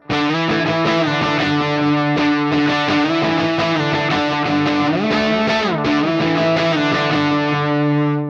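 Distorted electric guitar through an amp, cab and delay, played via a Mooer Prime P2, plays sustained chords and a few sliding notes, each ringing out with a repeating echo tail, loud and continuous throughout.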